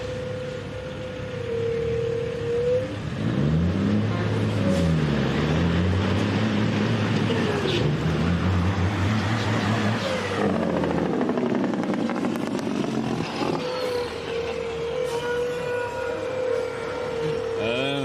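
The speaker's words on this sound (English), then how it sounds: "Looks like our dump truck goes back to Mr. Warfield in the far lane" A dump truck engine revs hard in a dirt drag race at Westminster, Maryland, the loud motor rising and falling in pitch through several surges before settling back to a steady drone.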